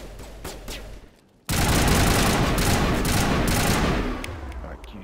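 Mass Effect gunfire: after a brief lull, a loud sustained burst of rapid automatic shots roars continuously for several seconds before easing off.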